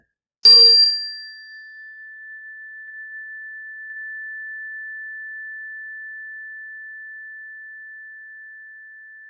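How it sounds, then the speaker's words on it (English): A single classroom chime is struck once, giving a sharp ding that settles into one pure sustained tone, slowly fading over several seconds in otherwise silent surroundings. "when you can no longer hear the chime, you're going to quietly raise your hand."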